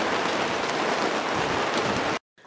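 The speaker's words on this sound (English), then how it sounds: "Thank God for the rain." Steady rain patters on a surface in a dense, even hiss that cuts off abruptly near the end.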